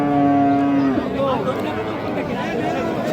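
A cow lows loudly and close by at a busy cattle market where Friesian and crossbred bull calves are traded, one long moo followed by wavering calls, with crowd chatter and talk running beneath.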